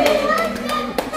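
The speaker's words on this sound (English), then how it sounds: "let's give God a clap of praise for the third celebration" At a third birthday celebration for a boy named Kobe, a small group gives a brief clap of praise, a few quick hand claps mixed with children's voices and chatter close by.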